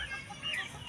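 A four-month-old cockerel gives a short, soft cluck in a farmyard, close but faint, against a background hum.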